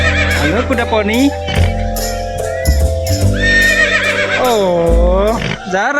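A pony at an animal park neighs in long, wavering whinnies close by, interleaved with a child's and adults' chatter and calls over a noisy outdoor background.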